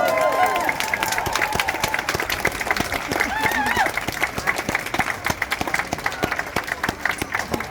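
A small crowd claps at a shop's opening-day ribbon cutting, with sharp, close individual claps forming a lively patter, mixed with cheering and voices talking throughout.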